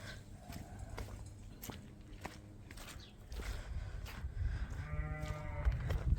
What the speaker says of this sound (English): we have the Suffolk ewes who are drying off on one side